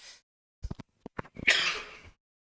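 A few short, sharp coughs, then one loud, harsh, explosive cough burst close by, with no other sounds around them.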